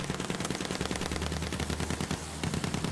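Rapid automatic gunfire in Battlefield 1 rattles on without a break, loud and close, with dense repeating shots running the whole way through and no voices.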